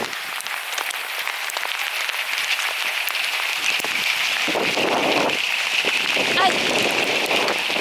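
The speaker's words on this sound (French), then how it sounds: "Ça grêle, ça pleut, ça fait soleil, ça regrêle." Hail and rain hammer down during a hike in the Monédières hills of Corrèze, a loud, dense, continuous patter with a brief cry of pain from a person caught in it.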